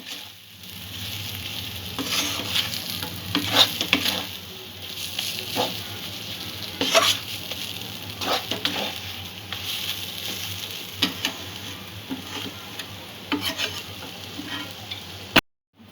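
Chana dal being stirred and fried in a pan for a sweet barfi, with a steady soft sizzle and repeated scraping strokes of the spoon throughout, close up and moderately quiet, no talking.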